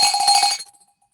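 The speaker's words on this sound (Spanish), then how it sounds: "La campana nos indica que arrancamos puntualmente a las 13 horas." A single bell struck to open a Rotary Club meeting in Buenos Aires gives one bright, ringing clang that fades over about a second, heard alone with no talk.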